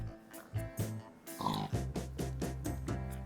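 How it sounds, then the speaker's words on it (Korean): A pig in a Minecraft modpack game gives a series of short oinks and grunts, several in quick rhythm with a brief squeal near the middle, fairly quiet and with nothing else heard. "뭐야 이 돼지는."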